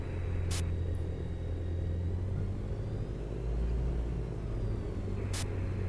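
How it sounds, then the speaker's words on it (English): Aircraft engine in a bush-pilot flight simulator game, a constant low droning rumble with a fan-like whir, holding steady throughout with two short high-pitched blips, near and fairly loud. "pretty weird engine noise. It feels like a fan, not an engine."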